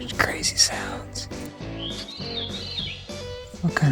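A bird call with rising and falling whistled sweeps, like a car alarm, mixed with background voices and other sounds on the Appalachian Trail, moderately loud and close.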